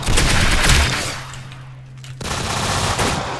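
Rapid automatic gunfire from a weapon in the Roblox shooter Arsenal, loud and dense bursts that pause briefly mid-clip before firing resumes, with no talking.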